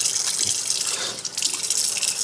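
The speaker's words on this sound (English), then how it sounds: "the first thing that I will do is I will wet my face, guys. So we'll make use of the water" Tap water running at a sink while a face is wetted, a steady close hiss of flowing water with light splashes throughout, no talking.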